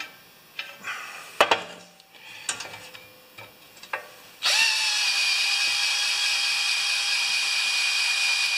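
Scattered clicks and knocks of handling lead into a power drill drilling holes for battery brackets on a 12-volt charging cart, its loud, steady high whine running continuously to the end.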